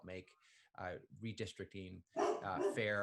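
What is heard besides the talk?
dog barking in the room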